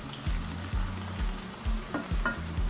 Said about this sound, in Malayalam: ഇനി അതിലേക്ക് നമ്മൾ ആ കറിവേപ്പില ആഡ് ചെയ്യുക. എന്നിട്ട് നല്ലപോലെ ഇളക്കി ഒരു 1 മിനിറ്റ് വെക്കുക.